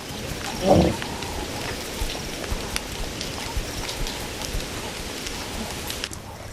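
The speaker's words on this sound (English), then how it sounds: "The whole of Kazinga welcomes the rain." Rain falls at Kazinga in the African wild, a steady close hiss of heavy drops with a brief low rumble near the start, and no voices.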